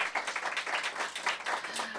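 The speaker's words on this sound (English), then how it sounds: "Give him a big round of applause" Brief, fairly quiet applause from an audience at a mayoral announcement event in Washington, D.C., a steady wash of clapping with no talk over it.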